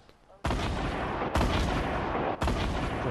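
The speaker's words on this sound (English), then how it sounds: "they're shooting" Fortnite gunfire, three heavy booming blasts spaced about a second apart, each followed by a loud sustained rumbling roar, close and dominant.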